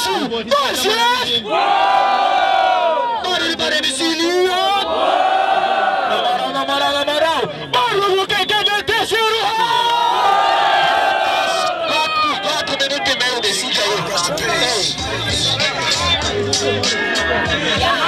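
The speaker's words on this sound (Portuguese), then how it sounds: "Barulho do MC2F" A crowd at a 2016 freestyle rap battle in São Gonçalo, Brazil, yells, chants and cheers loudly and continuously, with excited voices and shouting layered throughout.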